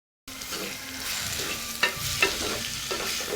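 Chopped onions fry in a pan with a steady sizzle, while a utensil scrapes and stirs through them with a few louder clinks near the end.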